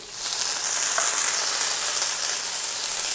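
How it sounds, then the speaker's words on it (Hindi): Potato, cauliflower and spices frying in a pan for aloo gobi, a loud, continuous close-up sizzle with a bright hiss and a brief clink near the start, no talking. "आलू और ये तमाम मसाले शामिल करके इसको हल्का सा फ्राई करूँगी"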